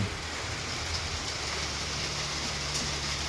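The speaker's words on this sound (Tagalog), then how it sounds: "silong muna sila at lumakas ang ulan" Heavy rain pouring steadily and close by, a dense continuous hiss with a low rumble underneath, holding strong for the whole stretch with no voices.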